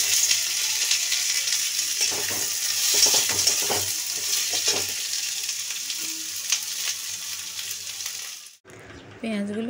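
Onions frying in oil in a kadai wok, a steady loud sizzle with occasional stirring scrapes, cutting out briefly near the end before the sizzle resumes.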